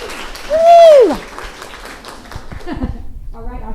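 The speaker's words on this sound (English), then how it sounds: "Let's give her a round of applause." An audience at a real estate panel event breaks into scattered applause, opened by a loud, high whoop of a cheer that fades into lighter clapping.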